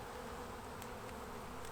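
A steady swarm drone rises from honey bees at an opened hive, with faint sharp ticks breaking the close, unbroken buzzing.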